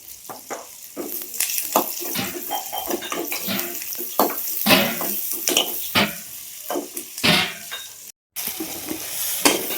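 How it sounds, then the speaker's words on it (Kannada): Brinjal fries in oil in a pan, an up-close crackling sizzle punctuated by repeated scraping and stirring strokes, with a short gap near the end. "ಬದ್ನಿಕಾಯಿ ಚಂದಾಗಿ ಫ್ರೈ ಮಾಡಿ"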